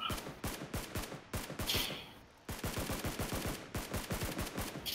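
Rapid bursts of SKS rifle gunfire in the video game PUBG crack out in quick strings, loud and close, with a brief pause midway before the shooting resumes.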